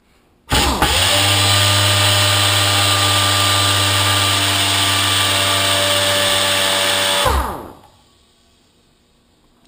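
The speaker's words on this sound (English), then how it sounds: "Not sure where my compressor kicks back in" Air compressor with an add-on tank running, a loud steady motor drone that starts abruptly, holds for about seven seconds, then winds down into silence.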